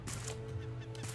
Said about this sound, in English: Ah, the bird's on our boat, too. Yeah, I hear him.